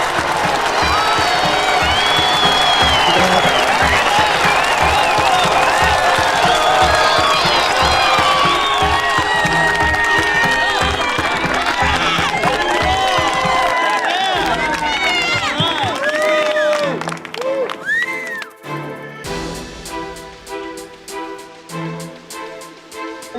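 Canned applause plays as a dense wash of clapping and cheering over a bright tonal bed, then thins and fades into scattered quieter sounds near the end.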